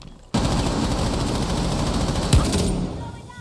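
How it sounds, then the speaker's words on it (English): Sustained rapid automatic gunfire erupts in a Rainbow Six Siege esports match, a dense, loud burst of rattling shots after a brief quiet start, with a sharp louder crack near the end before tapering off. "A lot of gunfire taking place"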